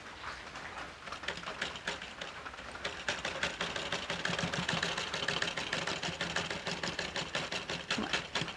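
Domestic sewing machine stitching a narrow rolled, folded hem, running steadily as a rapid, even mechanical chatter that stays close and fairly loud throughout, with no talking.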